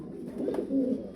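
Fancy white and black pigeons cooing close by, a soft low murmuring coo that swells briefly in the middle of a short stretch, with no talk.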